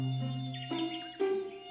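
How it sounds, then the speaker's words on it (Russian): A cartoon mosquito buzzes close and loud in a steady, reedy drone whose pitch steps upward a couple of times. "Комар?"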